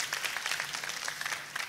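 Brief, lively burst of applause from a church congregation, dense and steady, fairly close.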